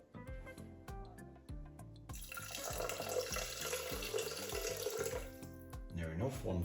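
Water streams steadily into a Thermomix TM6 bowl while the machine hums with regular ticking pulses, the pour loud and continuous for several seconds alongside the clicking.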